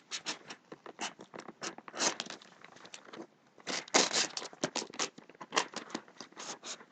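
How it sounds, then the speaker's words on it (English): Strong scissors cutting open a parcel package, a close run of dry snipping, crinkling and crackling bursts with a short pause near the middle, no voices. "Ooh, nice strong scissors."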